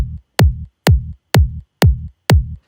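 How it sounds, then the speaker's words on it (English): A punchy, bassy kick drum sample taken from an original dance track hits six times at an even, steady pace, each thump sharp and deep with short decay, loud and isolated. "The first thing I did here was to get a really nice kick"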